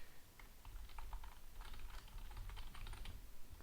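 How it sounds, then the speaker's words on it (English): Steady computer keyboard typing while app settings are filled in for firewood delivery software, a run of quick irregular keystrokes close to the mic, fairly quiet and with no talking. "I can't really talk and type at the same time."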